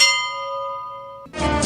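A single bell struck once rings out loud and clear, its tone decaying steadily for over a second before a burst of unrelated noise cuts in.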